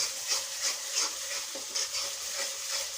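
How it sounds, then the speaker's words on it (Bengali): Spice masala being fried and stirred in a pan for a pangas fish dish with radish and turnip, rhythmic close scraping strokes repeating every half second or so. "এখন খুব সুন্দর করে মশলাটা ভুলে নিব"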